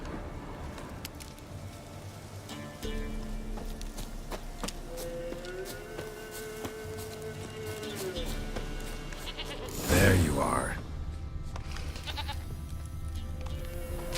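A goat in the video game The Witcher 3 bleats in a drawn-out, wavering call, heard over game ambience and music while someone speaks briefly nearby.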